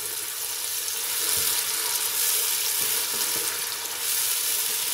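Masala with yogurt fries in a pan for mutton kofta curry, producing a strong, even sizzle that swells and eases slightly as it is stirred, with a few soft knocks.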